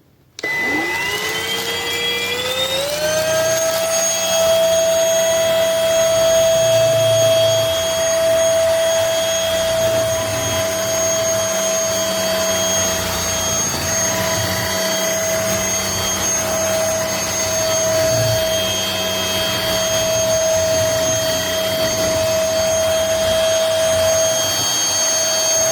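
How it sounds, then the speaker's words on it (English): A MBYULO cordless stick vacuum cleaner, a 450W, 40Kpa model, spins up and then runs with a steady, loud whine close by for the whole stretch, with no talk over it. "This is my favorite vacuum I've ever had."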